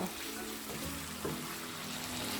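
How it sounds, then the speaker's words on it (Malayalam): Chicken pieces for a Mangalorean ghee roast frying steadily in hot oil over a medium flame, a dense continuous sizzle with a soft stirring scrape partway through, close and even throughout. "ഇടയ്ക്കിടയ്ക്ക് ഇളക്കി കൊടുത്തിട്ട് ഫ്രൈ ചെയ്തെടുക്കാം. മീഡിയം ഫ്ലെയിമിൽ വെച്ച് കൊടുക്കുക."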